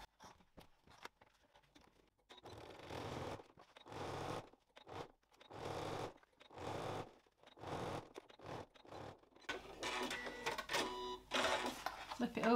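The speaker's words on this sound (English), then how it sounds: "into the machine and stitch along both sides" A sewing machine stitches the side seams of a wine bottle bag in repeated short bursts of rapid mechanical chatter, separated by brief pauses, and ends with louder rustling and handling of the fabric.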